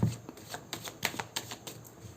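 Tarot cards shuffled by hand in a quiet room, a soft, steady run of papery riffles and taps, close and fairly faint, with no talking.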